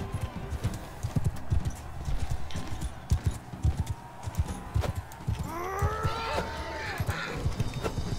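Horse hooves clip-clop steadily and close in the Mount and Blade 2 Bannerlord video game during a tournament, with a horse whinny partway through and busy game noise underneath.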